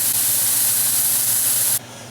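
Food sizzling hard in a hot sauté pan while making stuffed chicken breast, a loud, steady frying hiss held close that cuts off abruptly near the end.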